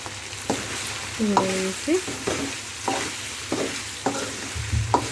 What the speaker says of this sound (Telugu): ఇలా బాగా మగ్గిన తర్వాత కొంచెం కొత్తిమీర, పుదీనా వేసుకుంటున్నాను.